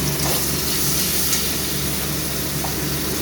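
Onion with ginger garlic paste frying in a pan while being stirred for a jackfruit curry, a dense, steady, loud sizzle with faint scraping underneath, close by and without talk.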